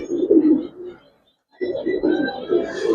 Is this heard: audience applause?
no